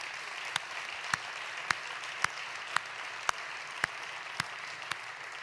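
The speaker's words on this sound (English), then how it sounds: "I'd like a good round of applause for the whole panel" A conference audience applauds a badminton expert panel with a soft background patter, while a nearby pair of hands claps loudly and evenly about twice a second throughout.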